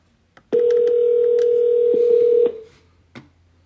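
An outgoing phone call from a live stream: a steady electronic dial tone sounds for about two seconds, broken by brief clicks, then fades away, with a short blip near the end and no voices.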